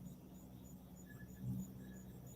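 Crickets chirp in a quiet outdoor night, a faint, steady run of evenly spaced high trills repeating in the background with nothing else heard.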